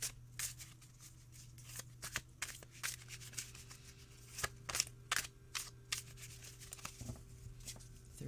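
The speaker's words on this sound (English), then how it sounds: "they want me to stop shuffling and to cut shuffle" A tarot deck, The New Tarot for the Aquarian Age, is shuffled by hand close up, giving quiet, irregular bursts of crisp riffling clicks and soft card slaps.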